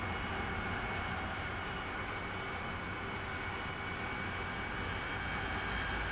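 AV-8B Harrier II jet engine in the DCS flight game, a steady, dense roar with a more-throttle setting, holding level and continuous throughout with no talking.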